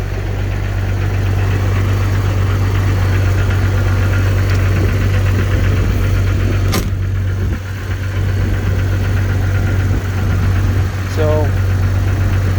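A battery-charged engine idling nearby: a steady, loud, low rumbling drone that holds even throughout, with a brief dip midway, and a voice speaking briefly over it.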